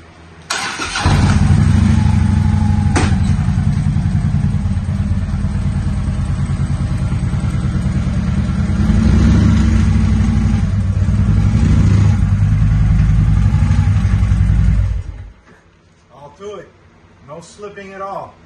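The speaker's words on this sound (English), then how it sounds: "This is a heavy bike. I can't push it up, so I run it up." Heavy motorcycle engine revving loudly and steadily as the bike is ridden up onto a Harbor Freight wheel chock, holding strong for about fifteen seconds before cutting off, followed by faint clatter.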